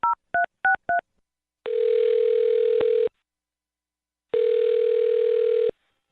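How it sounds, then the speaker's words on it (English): Four quick two-tone touch-tone keypresses dial a phone number, followed by two long, steady ringback tones separated by a pause, loud and clear with no talking over them, as a radio show places a call. "I'm going to dial his phone number and see if we can find out why"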